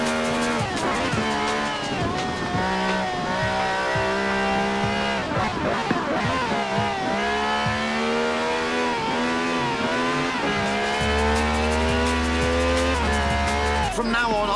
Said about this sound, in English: This is a V12 with over 750 horsepower